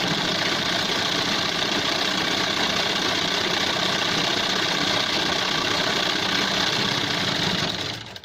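Sewing machine stitching buckram onto a men's shirt collar, an unbroken even motor whir and needle rattle held for about eight seconds, then cutting off, with no voices.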